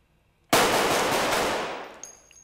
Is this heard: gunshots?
yes